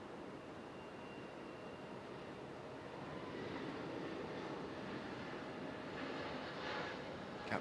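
A Frontier Airlines jet departs Raleigh-Durham International Airport, its steady, distant engine roar swelling slightly partway through and holding at that level.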